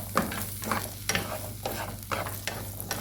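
Green chillies frying in a pan for eggplant curry, a soft steady sizzle broken by rhythmic scraping stirs about every half second, close and alone with no talk.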